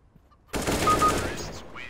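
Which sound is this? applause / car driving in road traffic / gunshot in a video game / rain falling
gunshot in a video game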